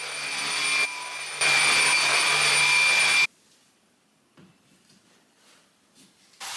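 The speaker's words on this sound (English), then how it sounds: "this needs a thorough vacuuming before I put anything back in this corner" A vacuum cleaner runs loud and steady with a high whine while a floor is cleaned in a corner where a Christmas tree stood. The motor's pitch shifts briefly, then it cuts off, leaving quiet room noise with a few soft knocks.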